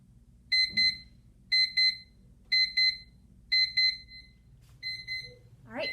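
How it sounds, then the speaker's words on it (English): A timer alarm sounds in five evenly spaced bursts of rapid double beeps, bright and electronic, over a low steady hum, with a brief voice at the very end. "Set your 2-minute timer"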